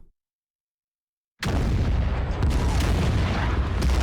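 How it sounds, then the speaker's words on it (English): Artillery fire in the strategy game Order of Battle: after a second and a half of silence a heavy booming blast erupts and rolls on as a dense, loud rumble of impacts for the rest of the moment. "We'll have the artillery."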